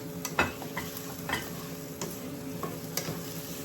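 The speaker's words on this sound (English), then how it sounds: "Vegetables are cooking away lovely." Vegetables sauté in a pan on the stove beside cooking steak, a quiet steady sizzle broken by a few soft stirring scrapes, with no voices.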